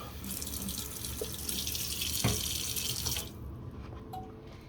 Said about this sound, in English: do a bit more warm water in there.